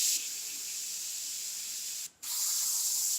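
An airbrush sprays paint for a freehand skull painting with a steady, close hiss that cuts out briefly near the end and then resumes.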